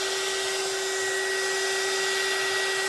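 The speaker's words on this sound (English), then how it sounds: "then I'm going to use my embossing gun to move it around" An embossing heat gun blows alcohol ink across a surface, giving a close, constant whirring rush of air with a steady high motor whine and no speech.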